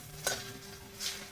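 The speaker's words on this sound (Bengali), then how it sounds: "চিকেন নুন আর একটু লঙ্কা গুঁড়ো দিয়ে ভাজছি।" Chicken pieces frying in a pan with salt and chili powder, a soft continuous sizzle with two brief scraping stirs, one early and one near the end, heard close and fairly quiet.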